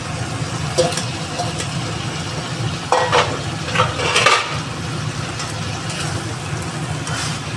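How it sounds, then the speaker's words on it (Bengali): Prawns (chingri) frying in hot oil in a pan for a home-style Bengali echor chingri curry, a steady low sizzle with a few brief louder crackles and stirring scrapes, no talk. "এবার আমি চিংড়ি মাছটা দিয়ে দিচ্ছি"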